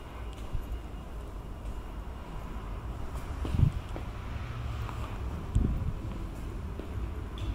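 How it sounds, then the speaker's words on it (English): Wind gusts outdoors near St Chad's church in Cheetham Hill, Manchester, producing a steady low rumble against the microphone with a couple of stronger buffets. "Getting a bit windy."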